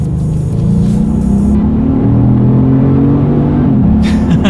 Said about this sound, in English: Nice engine sound to this thing, but yeah, acceleration, definitely not an issue